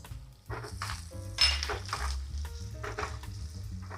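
Onions and curry leaves fry in hot oil with a crackling sizzle, mixed with pot and utensil clinks and stirring clatter, close by.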